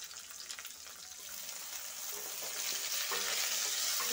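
Chopped tomato sizzling and frying with softened onions in a pan, a steady, close hiss that grows slightly louder near the end, with faint stirring and no voices.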